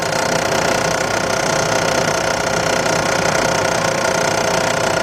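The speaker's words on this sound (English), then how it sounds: "The noise was not there, but I was hot inside the vehicle, so I cut the AC on, and there it is." A car engine running with the air conditioning switched on makes an abnormal noise, a steady, close, loud rattling knock over the continuous mechanical hum, with no voices.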